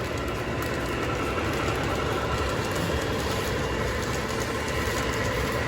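A train runs steadily at evening, giving a dense, continuous rumbling clatter at an even level with no gaps.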